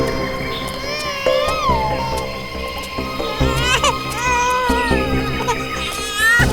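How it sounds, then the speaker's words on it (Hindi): An infant cries in a tense crime-drama scene, the sound coming from behind bushes: a loud, continuous wailing cry with rising and falling pitch, repeated in several long bursts, with faint background noise. "उस तरफ से बच्चे के रोने की आवाज आ रही है।"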